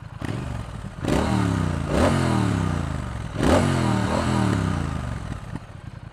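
A Triumph Thruxton R motorcycle engine revs hard during a ride, rising sharply through several gear changes with a throaty, close exhaust note and steady mechanical clatter.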